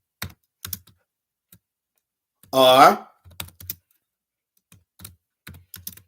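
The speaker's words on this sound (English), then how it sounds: "excuse my slow typing" Slow, hesitant typing on a computer keyboard, a few scattered clusters of close key clicks separated by pauses, with a brief burst of a man's speech partway through.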